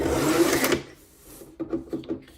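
Paper being cut for card making, a letter-size sheet trimmed to 8 1/2 by 5 1/2 inches with a craft paper cutter: one loud close slicing rasp, then quieter clicks and small taps as the tool is handled.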